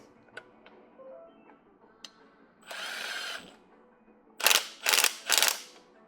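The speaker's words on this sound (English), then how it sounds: "I am going to use my impact to run on and I don't want to strip it." An impact driver runs at its slowest setting, driving a cone valve into a WP closed-chamber motorcycle fork: faint clicks and a brief whir, then three short loud rattling bursts close up.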